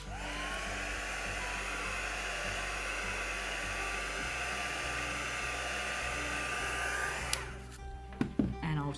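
Steady whir of a heat tool blowing over a watercolour painting on paper, a constant close airy hum that cuts off near the end, followed by a few light handling knocks.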